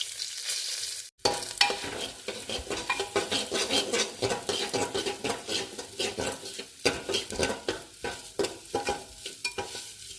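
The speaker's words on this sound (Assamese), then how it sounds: "ডালিয়াখিনি অকণমান ৰঙা হোৱাকৈ ভাজি দিম" Broken wheat dalia frying in ghee with bay leaves in a pan, stirred steadily with a spoon: a soft sizzle under repeated scraping and clinking strokes against the pan, close and continuous after a brief pause at the start.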